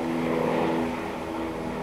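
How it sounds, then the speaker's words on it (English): A steady, droning aircraft engine hum with low tonal bands, holding constant and fairly loud for the whole stretch, no voices. "so sorry if you can hear that airplane"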